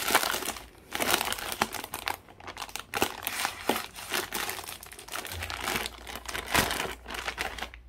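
Someone handles a plastic bag while double-bagging tropical aquarium fish. The bag gives loud, close, irregular crinkles and rustles in bursts throughout, and no one speaks.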